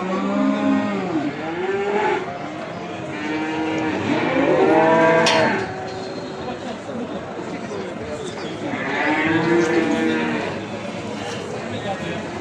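Calves mooing at a livestock market in Beylagan, Azerbaijan: two long, loud drawn-out moos, one near the middle and one toward the end, over a busy crowd murmur with people talking nearby.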